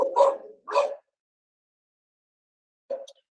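Small dogs bark indoors, two sharp close barks in quick succession followed after a pause by a shorter yip, loud against an otherwise silent room.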